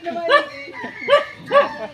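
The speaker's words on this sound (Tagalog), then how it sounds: "Daming aso." Three sharp barks from a dog at close range at a village fiesta, spaced about every half second, with people talking in the background.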